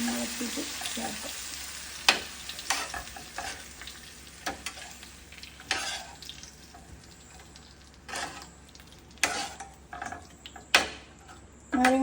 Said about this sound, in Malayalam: ഇനി ഇത് നല്ലോണം ഇളക്കിയിട്ട് ചേർക്കാം.